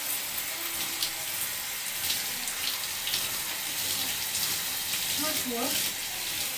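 Steady running water from a tap rinsing dark hair dye out of hair, a continuous hiss and splash throughout, with someone speaking briefly near the end.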